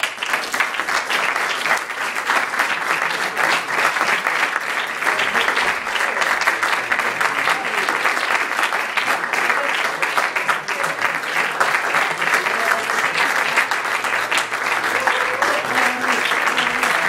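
Live concert audience applauding at a 2010 gig at Piscator, continuous dense clapping from a crowd that holds steady for over fifteen seconds, close and loud.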